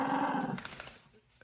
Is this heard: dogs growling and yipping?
yes